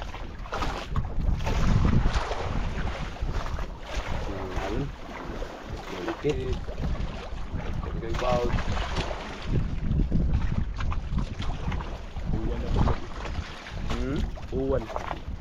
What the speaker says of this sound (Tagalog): Ang alon.